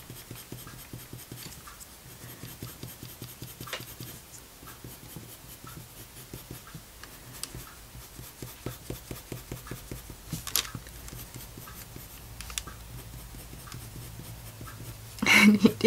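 Coloured pencil is layered over Saunders Waterford 140lb hot-pressed watercolour paper in close, rapid scratchy strokes with short pauses. A brief louder rustle comes at the end.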